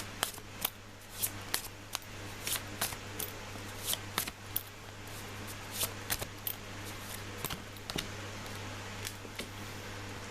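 Tarot cards being shuffled and drawn, a run of soft close flicks and snaps at an uneven rhythm over a low steady hum.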